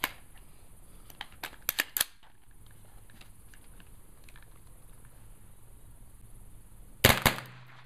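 AR15 fitted with a CMMG 22LR conversion bolt firing, a few sharp cracks in quick succession, then a pause and a final short burst of closely spaced shots, with quiet handling noise between.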